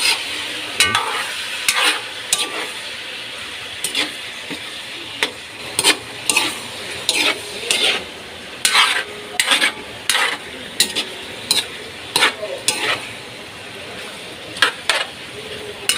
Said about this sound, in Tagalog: medyo haluin natin para may contribution tayo sa pagluluto